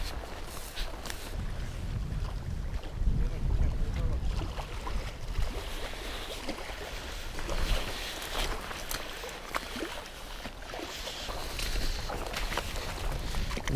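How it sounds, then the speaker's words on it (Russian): Gusty wind rumbling against the microphone outdoors at a small lake while pike fishing in autumn, rising and falling over a long stretch, with faint water and movement sounds beneath. "Да, ветер."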